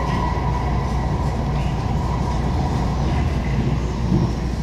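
Aboard a MARTA Red Line subway train in Atlanta, a steady, loud rumble and wheel roar continue throughout with a faint high whine, and no voices are heard.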